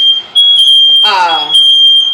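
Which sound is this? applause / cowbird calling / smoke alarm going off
smoke alarm going off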